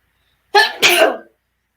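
A single loud, close human sneeze, a quick sharp intake followed by an explosive burst, in an otherwise silent room.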